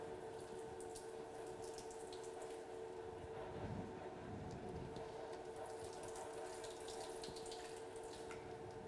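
Water runs in a steady, faint stream for several seconds, poured into type 2 flour, re-milled semolina and biga in a bowl while mixing pizza dough.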